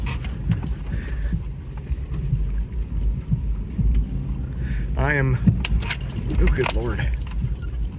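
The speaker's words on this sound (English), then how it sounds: "I am definitely experiencing every eccentricity and loose bushing in this whole Jeep suspension" A 1995 Kawasaki Mule KAF620A utility vehicle bounces over a washboard dirt road. Its loose suspension bushings rattle and jangle constantly under a low engine rumble, and a driver briefly exclaims in the cab.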